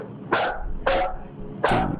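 A dog barks three times, loud and close, at an even rhythm of roughly one bark every two thirds of a second, each a short harsh burst.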